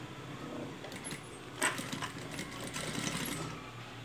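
A sewing machine hums steadily as it stitches a folded fabric hem on a cropped top, a continuous close mechanical whir with a brief clack partway through and no voices over it.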